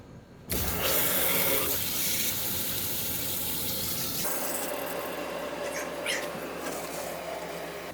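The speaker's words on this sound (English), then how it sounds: "We are now opening water to the house." Water gushing from a newly opened valve into a bucket at a custom hangar home under construction: a sudden loud rush that starts abruptly, then a steady, continuous splashing flow.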